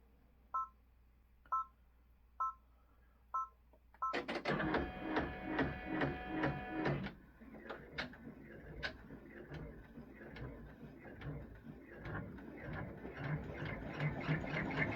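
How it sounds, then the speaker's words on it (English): An embroidery machine stitches a placement line on black stabilizer: a few spaced beeps, then a rapid, loud mechanical ticking and whirring of the needle that runs steadily to the end, with no voices. "the first step is going to be to stitch the placement line directly on the stabilizer"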